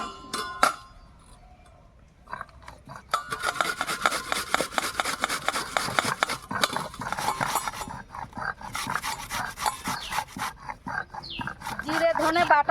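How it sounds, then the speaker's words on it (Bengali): Two potatoes are grated by hand, with rapid rhythmic rasping strokes that start after a quieter opening and continue close and fairly loud for most of the stretch. "দুটো আলু নিয়েছি, গ্রেট করে নেব।"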